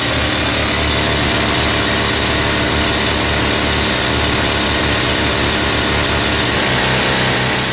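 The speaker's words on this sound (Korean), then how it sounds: "가장 먼저 옥 주변의 돌에 폭약을 장착할 구멍을 뚫는 작업이 시작됐다." A rock drill bores blasting holes into the stone around jade in a mine, a loud, continuous roaring drone that fills the space without a break.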